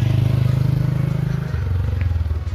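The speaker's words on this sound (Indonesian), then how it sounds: "Itu naik motor ya." A motorcycle rides past on a road near the Mount Merapi observation post in Jeraka village, its engine a loud, close, pulsing drone that drops in pitch as it passes.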